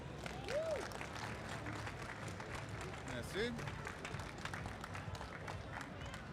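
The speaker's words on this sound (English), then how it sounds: "Please give an amazing round of applause to Mr." A live crowd claps for Greg Wells at the NAMM 2018 show, a steady, fairly faint patter of many hands running the whole time while voices talk over it.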